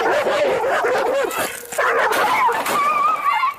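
A dog barks repeatedly in a video being played back, with yips and whimpering yelps in quick, uneven bursts, fairly loud, as people talk over it now and then.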